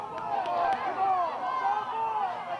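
Girls high school soccer crowd at Lakeshore High School, the home cheering section booing and calling out in a sustained, jeering babble of many voices voicing displeasure at a foul call.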